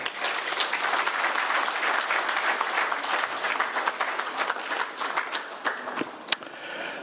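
Audience applause fills a hall at the Zimbabwe Prisons and Correctional Service conference on parole, many hands clapping in a dense, steady patter that thins slightly toward the end, with one sharp louder clap standing out.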